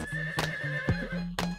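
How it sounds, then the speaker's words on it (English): A horse whinnies within a song, a loud neigh set against the music with a clip-clop beat running underneath. "Horse."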